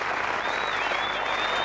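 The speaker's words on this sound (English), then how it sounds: "Generous applause from the Irish team as well as the crowd" Sustained, even applause from the crowd and the Irish team at a 1991 Ireland versus West Indies one-day cricket match fills the whole moment, dense and steady without a break.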